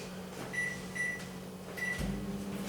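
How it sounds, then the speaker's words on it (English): A microwave oven softening potatoes hums steadily, with three short high beeps sounding in a row and a deeper mechanical drone kicking in near the end, no voices. "40 seconds into the microwave"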